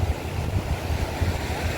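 Sea waves wash onto Madhavpur beach on the Gujarat coast, a soft continuous surf rush mixed with wind buffeting the microphone, fairly faint and without talk.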